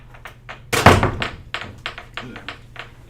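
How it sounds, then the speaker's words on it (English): An exceptionally loud door slams shut with one heavy thunk, followed by several lighter taps and knocks in a quiet room. "Door's exceptionally loud."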